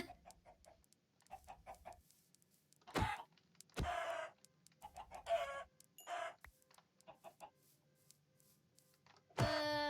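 Chickens cluck and squawk in the video game Haven, short clucking bursts and a few louder squawks scattered over a quiet background, fairly close, with no talk.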